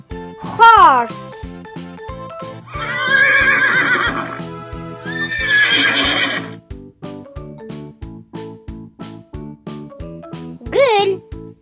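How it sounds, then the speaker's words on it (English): A horse whinnies loudly in a high, falling series of calls at the start and again near the end, with a cheerful music bed running underneath and a voice speaking in the middle. "Horse."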